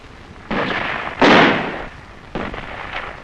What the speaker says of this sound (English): It was quickly met with small arms and mortar fire.